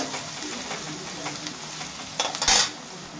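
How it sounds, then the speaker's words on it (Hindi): Onions frying in a pan for raw banana curry gravy give a soft steady sizzle, ending in a brief louder burst of stirring and scraping, close. "तो पहले प्याज को अच्छे से भून लेते हैं।"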